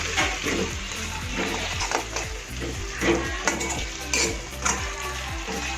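Fresh coriander being stirred into cheesy street-style paneer gotala in a hot pan, with a continuous close sizzle and the repeated scrape and knock of a spoon against the pan, a few louder clinks standing out.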